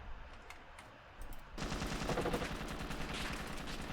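Rapid automatic gunfire in the video game Ravenfield, a dense sustained burst starting abruptly and continuing loudly after a quieter stretch.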